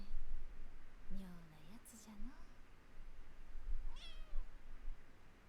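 Meowing from a cat in the samurai action game Rise of the Ronin, a couple of short rising and falling cries close by, separated by a pause, with another meow near the end over low background hum.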